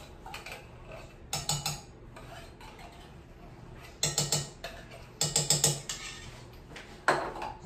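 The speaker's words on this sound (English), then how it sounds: "Get me out a spoon here so we won't waste any of this" A metal spoon scrapes and clinks against a mixing bowl of brownie batter in bursts of quick rhythmic scrapes, close by, with no talking.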